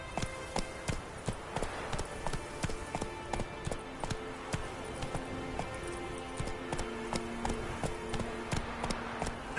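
Roach, Geralt's horse in The Witcher video game, galloping with a steady, rhythmic clip-clop of hooves, evenly repeating at moderate volume over a quiet game background.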